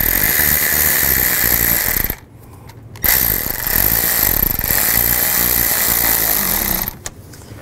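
Power tool tightening bolts on the passenger-side variable valve timing solenoid of a 2005-2015 Nissan Xterra, a loud continuous whir with a brief pause near two seconds and a short stop at the end.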